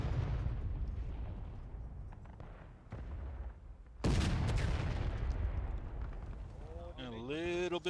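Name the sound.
artillery firing in the video game War of Rights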